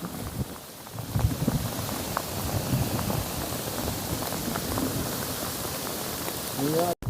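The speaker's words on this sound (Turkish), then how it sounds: "şiddetli yağmurdan sonra" Heavy rain pours over the Gelveri Dereler vineyards in Güzelyurt, Cappadocia, a dense, close patter on leaves and ground that holds steady throughout, with a brief rustle near the end.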